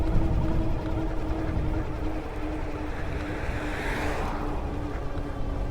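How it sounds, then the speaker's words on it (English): A car overtakes a cyclist riding an Engwe M20 2.0 dual-battery e-bike up an 8% hill. Its engine swells briefly under steady, heavy wind rush while the bike rolls along. "Car past me."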